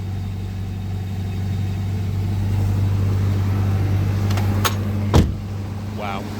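A Toyota 22RE engine on a new long block idles with a quiet exhaust, a smooth, steady low hum running throughout, with a couple of brief clicks near the end.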